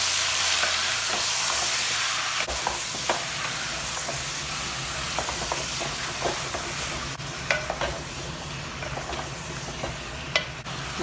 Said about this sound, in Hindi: कलेजी को हमने सिर्फ कच्चे प्याज लहसुन के साथ कम अज़ कम 5 से 8 मिनट के लिए भूनना है।